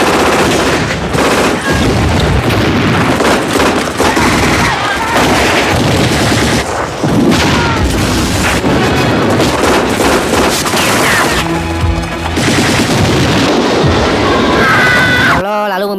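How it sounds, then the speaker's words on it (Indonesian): Dense gunfire and machine-gun bursts roar almost without pause in a Stalingrad battle film, loud and continuous, with booms and a brief lull near the end. "Suara tembakan itu membuat musuh mengetahui posisi mereka"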